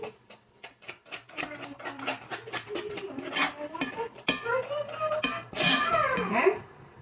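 A spoon or utensil clinks and scrapes steadily around a bowl while bread ingredients with cinnamon are loosely stirred, a quick rhythmic series of close metallic taps and scrapes with a voice talking over it.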